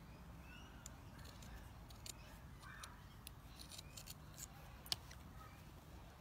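Scissors trim a leaf shape from a thin wool woven blanket fabric, giving soft, quiet snips scattered across a faint background, with one sharper cut near the end.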